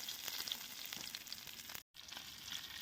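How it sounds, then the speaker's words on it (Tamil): Fish frying in a pan, a steady dense sizzle that crackles close and loud throughout, with a brief dropout near the middle and no voices. "பாருங்க, இந்த மீனையும் வறுத்தாச்சு"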